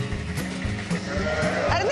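Sheep bleat on a manchego cheese farm with a flock of about 1,200, mid-range calls rising over a steady, crowded barnyard background throughout, fairly loud and close.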